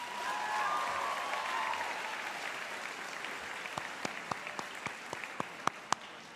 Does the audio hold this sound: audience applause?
yes